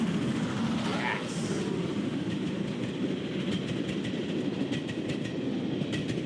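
Steam mail train passing to pick up mail sacks: a loud, steady rumble of the train going by, with clanking near the start and a voice talking over it.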